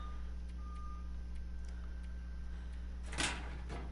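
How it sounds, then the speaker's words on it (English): Trucks working outside at a townhouse fire scene give off regular, faint reversing beeps over a steady low hum, and a louder clunk like a door or hatch comes near the end. "Probably hear a lot of beeping in the background. There's a lot of trucks around with this townhouse fire"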